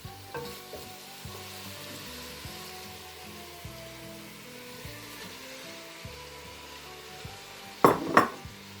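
Chopped green onion goes into a pan of al dente vegetables, which sizzle and fry steadily throughout, with a louder burst of crackling near the end as the onion lands.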